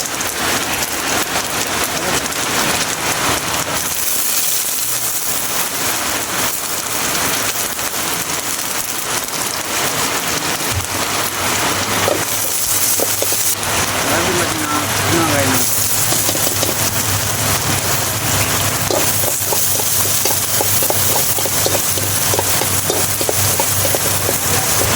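Mustard seeds sizzle and crackle in hot oil while a village-style fish curry is cooked, a loud, continuous frying hiss with sputtering pops that runs the whole time.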